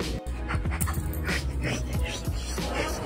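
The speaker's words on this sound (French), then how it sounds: "Et il y a deux petits chiens" Two small dogs in Tulum pant in quick, rhythmic breaths close by, with faint whimpering and yips mixed into a noisy background.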